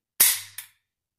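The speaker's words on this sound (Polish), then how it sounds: "Oddajemy strzał kontrolny." An AKM assault rifle's hammer is dropped on an empty chamber as a control shot. It makes a sharp metallic snap followed by a softer second click, close and alone with no voices.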